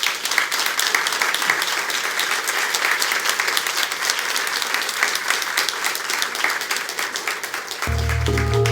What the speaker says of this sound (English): give them a warm applause and thanks for joining us tonight